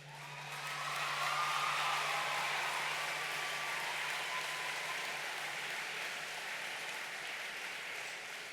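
Sustained applause from a large audience at a conference, steady and dense throughout, gradually easing toward the end with no voices over it.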